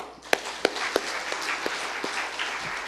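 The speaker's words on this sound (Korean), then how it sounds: "영광의 박수." A church congregation claps during a worship service, a fairly quiet, even patter with a handful of sharper individual claps standing out at a steady rhythm.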